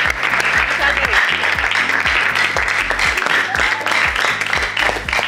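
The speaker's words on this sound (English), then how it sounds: "Guys, clap for them, please." Studio audience applauding contestants on a televised quiz show, steady dense clapping throughout with a host speaking over it.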